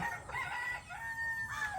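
A rooster crows once, a drawn-out high call at moderate distance over a faint low background hum.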